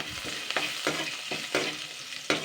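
Crushed garlic cloves dropped into hot oil with dried red chillies, sizzling and hissing in the pan, with a few sharper scraping bursts as they are stirred, close and moderately quiet with no talking.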